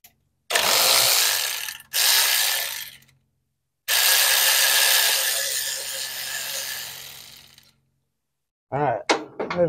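A hand ratchet works on a bolt at the water pump of a Pontiac engine, in long bursts of rapid, loud clicking separated by pauses, with a brief metallic clatter at the end.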